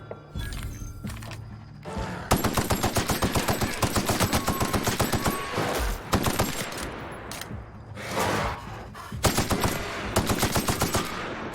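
Rapid automatic gunfire from a weapon in the video game The Outer Worlds, loud sustained bursts of fast, evenly spaced shots with short pauses between them.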